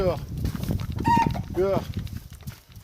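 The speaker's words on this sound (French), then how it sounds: "Voilà, allez, craintives, les poules blanches." White hens cluck and squawk close by in a short burst, their calls mixed with someone speaking and household background noise.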